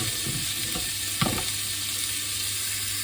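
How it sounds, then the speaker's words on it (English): Beef mince frying and browning in a pan for a spicy chili beef pasta, a steady close sizzle with a few scraping stir sounds, no talk. "let me get this all broken up and browned off"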